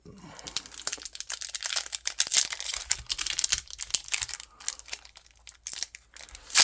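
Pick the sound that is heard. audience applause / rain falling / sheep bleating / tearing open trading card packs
tearing open trading card packs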